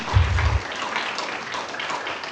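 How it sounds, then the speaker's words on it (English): Applause at a St. Johns County board of commissioners meeting after a 3-2 vote passes, a short burst of clapping from a small crowd that quickly thins into a quieter wash. "okay, now you can clap"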